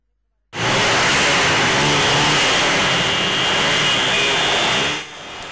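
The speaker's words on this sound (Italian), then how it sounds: "Eccolo, il rombo delle moto che risuona per tutta Noale" Motorcycles roar together in Noale at a funeral commemoration, a loud, sustained mass of engine noise that starts abruptly and holds steady, thick and near, before easing slightly at the end.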